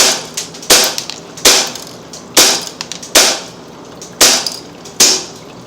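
Umarex Legends Luger .177 air pistol fires pellets into a pellet trap, seven sharp loud cracks at roughly even intervals of under a second, each followed by a short metallic clatter.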